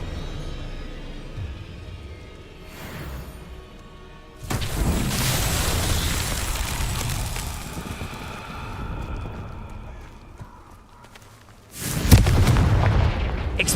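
Confringo explosion spells cast in Hogwarts Legacy: two heavy, booming blasts arrive seconds apart, each a sudden loud burst followed by a rumbling, crackling tail over quieter ambient sound.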